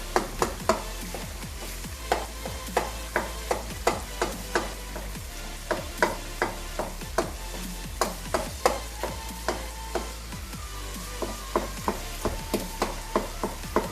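Tomatoes being mashed in a chicken karahi pan over heat, repeated sharp taps and scrapes of a utensil against the pan in an uneven rhythm, with a soft sizzle underneath and no talking.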